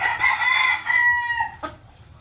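A fighting rooster crows outdoors, one full cock-a-doodle-doo close to the listener, loud and clear, tailing off into a short cluck and then quiet.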